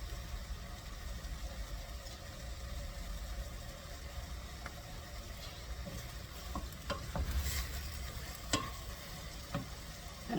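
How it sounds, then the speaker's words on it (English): Vegetables sauté in a pan for a chicken casserole, giving a soft, low sizzle with scattered clicks and scrapes from stirring against a faint background hum. "I'm going to saute these vegetables"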